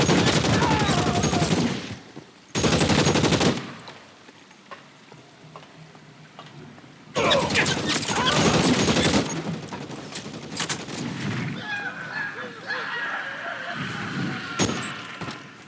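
Loud close bursts of rapid gunfire in L.A. Noire, sustained crackling volleys that cut off and restart, then quieter scattered shots with echoing rattles toward the end, with no talking.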